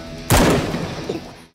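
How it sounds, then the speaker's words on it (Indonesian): Gunfire in the anime Heavy Object: a single loud, close burst that erupts suddenly and then decays into a rumbling tail lasting over a second. "Tapi tiba-tiba muncul tembakan entah dari mana"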